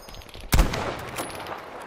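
A single sharp burst of machine gun fire in a tank battle video game, a loud close crack followed by a short rumbling tail, with no talk over it.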